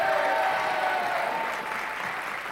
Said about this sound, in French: je vous demande de les applaudir tous les 6